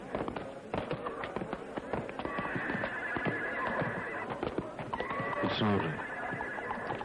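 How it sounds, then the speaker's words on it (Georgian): Horses neigh loudly while hooves clop in a busy rhythm. Sharp cracking bangs and people's voices run throughout. "ცხენები ჩამოიყვანეს."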